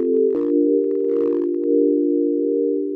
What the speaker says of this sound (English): can we do pads with sine waves? Yes, we can. We're just going to come here and choose two sine waves.